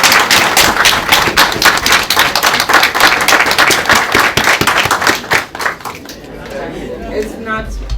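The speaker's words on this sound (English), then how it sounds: "Round of applause, please." An audience claps for a recipient at a heritage award ceremony, loud, fast and crisp for about five seconds before dying away, leaving a quiet room with faint murmurs.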